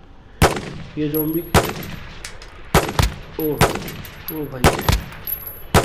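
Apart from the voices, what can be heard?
gunfire shooting zombies in Call of Duty video game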